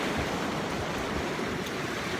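Sea waves washing ashore at Montrose, a loud, continuous rushing surf that fills the whole span without pauses or speech.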